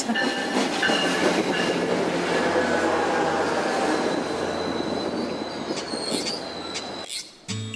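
A train rumbles along the rails with wheels squealing and screeching at high pitch, steady motion noise, then a sudden cut near the end.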